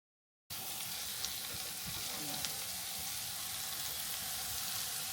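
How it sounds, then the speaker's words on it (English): Onions frying in a pan while cooking down, a steady close sizzle that starts after a short silence and carries on evenly with faint occasional ticks. "the onions are cooking down"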